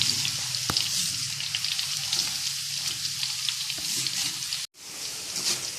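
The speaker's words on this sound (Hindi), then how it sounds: "इसको भी ऐसे ही हम चम्मच हिलाकर फ्राई कर लेंगे 5 से 7 मिनट।" Chana dal fries in oil in a kadhai while being stirred with a spoon, giving a steady close sizzling hiss with an occasional sharp clink.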